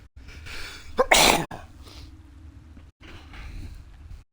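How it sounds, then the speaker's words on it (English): A single sharp, loud human sneeze with a short inhaled buildup, followed by quieter breathing and faint room noise during a gaming stream. "I'm going to sneeze."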